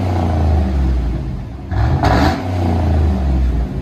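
A GMC Yukon Denali 6.2L V8 exhaust with a resonator rumbles at a deep idle, then revs briefly in a sharp rise before settling back to its low, throaty burble.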